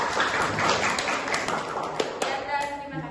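A classroom group gives applause to group 3 after their presentation, a short, moderate patter of hand claps throughout.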